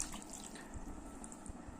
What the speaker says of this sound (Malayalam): അപ്പോൾ ഇത് വെള്ളം ആഡ് ചെയ്തേക്കാം.